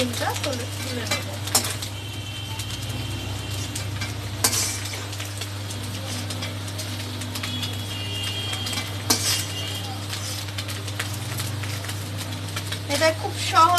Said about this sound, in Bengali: এবার আমি একটু হালকা হালকা তেলটা ঝরিয়ে ঝরিয়ে ডিমটা তুলে নেব।